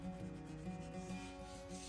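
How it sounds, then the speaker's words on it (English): Hand sanding along the routed edges of a wooden cutting board with 120 grit sandpaper, a steady close scratchy rubbing that continues without a break, with no talking. "I first sanded all of the routed edges by hand using 120 grit sandpaper"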